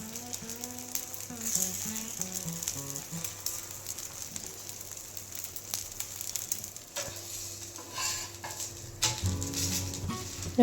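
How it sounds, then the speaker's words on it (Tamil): Dosa batter sizzles steadily on a hot griddle, a continuous close frying hiss with faint clinks and scraping, and no voices. "தோசைக்கல் நல்லா சூடானதும் தோசையை ஊற்றிக்கலாம்."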